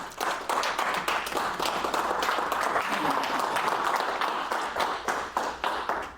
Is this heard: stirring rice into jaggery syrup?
no